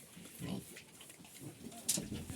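Young piglets on a home smallholding grunt in a low, irregular series of short snorts and oinks, moderately close, with a brief sharper squeal near the end.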